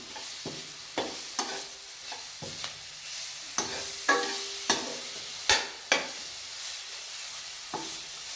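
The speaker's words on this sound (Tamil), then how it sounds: "இஞ்சி பூண்டு பேஸ்ட்டும் மிளகாயும் போடணும். நல்லா ஃப்ரை பண்ணிக்கணும்." Ginger garlic paste and chillies fry in a pan for pasta, a soft steady sizzle with a dozen sharp spatula scrapes and taps spread irregularly across it, close by and without voices.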